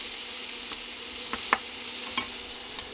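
Laing, taro leaves in coconut milk, sizzling in a pan: a steady, close frying hiss with a few soft scrapes of stirring scattered through it.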